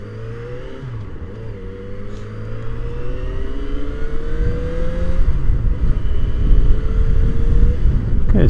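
A Yamaha XJ6F motorcycle rides at about 40 mph, its engine droning with gliding pitch shifts as it changes gear, heard from the rider's position under heavy low rumbling wind buffeting that builds toward the end.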